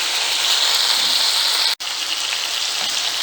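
Onions and peppers browning in a frying pan give off a loud, steady sizzle that continues alone, with one brief cut near the middle.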